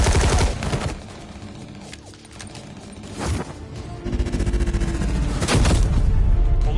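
Repeated gunfire bursts from shotguns in the Batman Telltale video game, loud blasts with a busy rumbling background and a clustered volley near the end.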